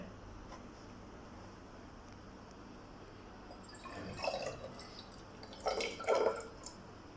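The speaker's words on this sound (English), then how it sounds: "we have to fill the cylinder, 1/3 of the cylinder with water" Water poured into a glass measuring cylinder during a science measurement demonstration, heard as soft splashing and trickling in two short bursts after a stretch of quiet background hiss, fairly close and faint.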